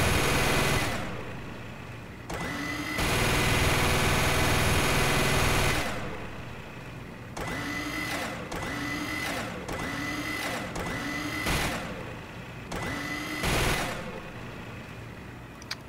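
Heavy's minigun in a video game fires repeatedly in long, loud whirring bursts. Each burst has a buzzing spin-up and a winding-down tail, with short gaps between bursts.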